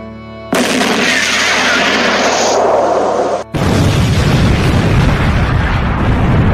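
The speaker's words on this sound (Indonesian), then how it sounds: "Jangan tembak Basoka itu, Plu." A loud animated explosion from a bazooka shot in an Among Us cartoon: a sustained roaring blast, then a brief cutoff and a second heavy, rumbling burst that continues to the end.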